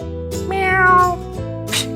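A cat meows in a drawn-out, wavering cry, close and fairly loud, followed by a shorter second call near the end with no talking over it.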